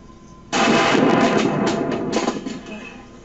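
Gunfire in a played video of Arab fighters handling weapons: a sudden loud burst of continuous rapid shots starting abruptly, sustained and dense, tapering slightly toward the end, with no talk.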